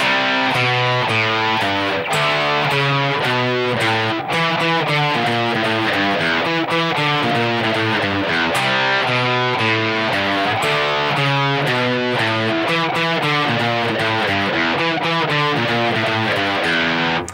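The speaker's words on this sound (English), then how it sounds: "we're going to play this little riff that we've already learned as well twice" An electric guitar plays a repeated rhythmic riff from a rock song, loud and continuous with steady strummed chords and no voice over it.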